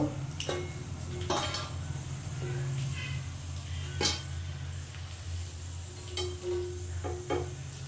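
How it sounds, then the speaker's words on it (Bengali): Pumpkin flower fritters frying in oil in a pan, a soft continuous sizzle under low kitchen hum, broken by several sharp clinks and scrapes of a utensil against the pan. "এইভাবে আমি সমস্ত বড়া কাটা ভেজে নেব।"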